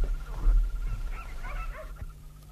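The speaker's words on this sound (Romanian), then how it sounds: "Oh, ce câine-i Vulpașin." A dog gives a thump of a bark at close range and then whines in a thin, wavering whimper, set against a low dark hum in a quiet night scene from a Romanian radio drama.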